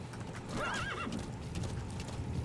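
A horse in Metal Gear Solid V lets out a loud whinny near the start while hooves clip-clop steadily beneath it, then keep going alone.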